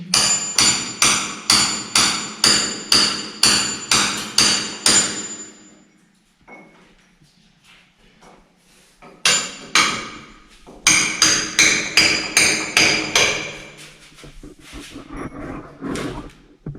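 Rapid rhythmic hammer blows strike in a fast series while fitting gutters and tiles on a house build, pause for a few seconds, then resume in another quick run of sharp metallic knocks.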